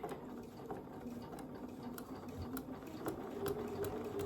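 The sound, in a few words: sewing machine stitching quilt binding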